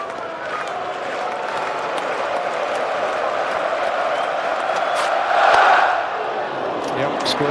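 The crowd at Lord's during the Ashes Test between Australia and England keeps up a steady, loud roar of murmuring and cheering, swelling briefly near the end.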